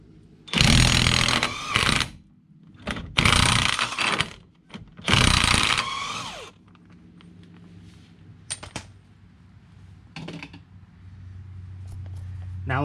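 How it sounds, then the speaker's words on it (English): Loud bursts of an impact or power tool rattle against the axle nut of a Nissan Sentra CV axle, three long runs close together, followed by quieter clanks and shop noise. "Now let's go ahead and take this axle nut off."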